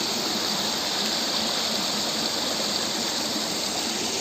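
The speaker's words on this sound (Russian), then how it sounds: "Вода, значит, течет сверху" Water pours steadily down from above into pools at a trout farm, a dense continuous broadband rush that is loud and close with no pauses and no voices.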